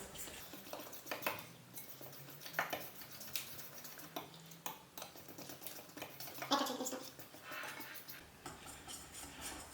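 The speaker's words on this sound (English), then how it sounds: "you're just going to mix this up into a runny crumpet or pancake batter" Runny crumpet batter is mixed in a bowl with a utensil, producing steady close clinking and tapping against the bowl in an uneven rhythm, fairly quiet throughout.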